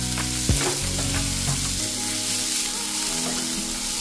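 Diced onions fry in oil left over from frying potatoes, a steady close sizzle with stirring scrapes and clinks, no one talking.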